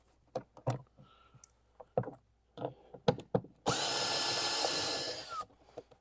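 Cordless screw gun fitted with a number 30 Torx bit removes screws from a Can-Am Spyder battery cover: scattered clicks and taps, then one loud, steady whirring burst of about two seconds, close by.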